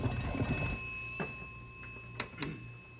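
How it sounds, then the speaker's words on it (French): An old-style telephone bell rings in a room, with a few sharp ringing bursts after a steady electronic tone at the start. "je vais répondre au téléphone"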